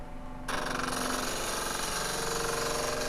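A lathe turning a magician's ball and vase illusion, starting abruptly after a short quiet moment and then running as a loud, steady, rattling mechanical drone without speech.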